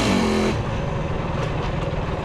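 A quad bike engine revs hard during a wheelie, a loud close rising whine that drops after half a second into a rough, pulsing idle-like burble.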